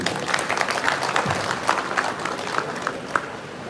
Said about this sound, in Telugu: అందరూ కూడా గట్టిగా క్లాప్స్ పెట్టి అభినందించారు